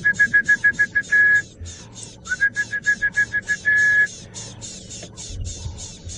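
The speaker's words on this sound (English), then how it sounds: "Orange-breasted bush shrike." An orange-breasted bush-shrike repeats a rapid series of clear whistled notes in two bursts, each ending in a longer held note, with a quiet outdoor background.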